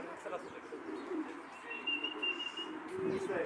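Soft pigeon coos with occasional chirps in a busy outdoor setting as racing pigeons return at the end of a winter race, steady background noise throughout.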